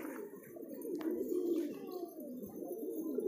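Low, throaty pigeon cooing rolls on continuously, nearby and fairly quiet, with a few faint clicks and rustles.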